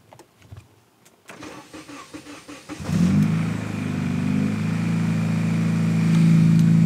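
A Honda Integra with a newly replaced starter cranks briefly, then catches and settles into a steady, loud idle close by, with some rattling and handling noise before it fires.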